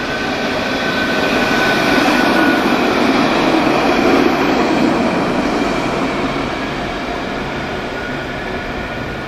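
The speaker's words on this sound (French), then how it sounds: "Le tramway du Havre." A tram rolls past on a street in Le Havre, France, a steady broad rumble that swells and fades gently over several seconds, with no voices.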